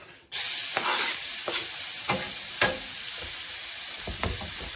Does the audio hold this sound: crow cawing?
no